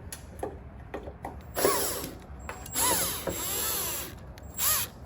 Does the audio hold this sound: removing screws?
yes